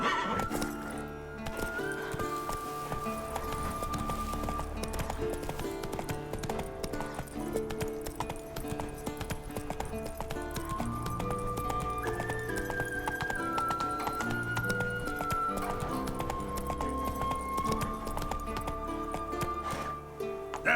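A horse named Roach gallops in The Witcher 3: Wild Hunt, a steady drumming of hoofbeats that runs throughout, with occasional neighs and clinks of tack over a continuous game music bed.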